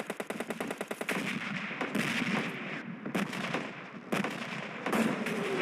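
Gunfire in PUBG Mobile Lite, a loud rapid automatic burst with evenly spaced shots, followed by several more sustained bursts with brief pauses between them, close and dominant.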